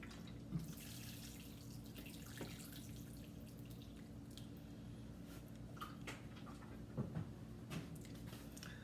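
Water runs steadily into a watering can, a soft continuous pouring with occasional drips and splashes, quiet and close.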